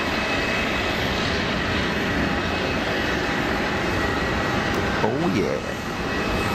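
An Airbus A220 jet climbs away during a go-around at Geneva Airport, its engines producing a loud, steady broadband roar that holds throughout, with a brief spoken remark near the end.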